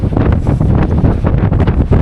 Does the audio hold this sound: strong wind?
yes